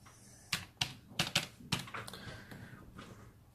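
Several quick keystrokes on a computer keyboard as a player's last name is entered into a tennis results site, sharp clicks in a short irregular burst followed by a few lighter taps, close and clear with no talking.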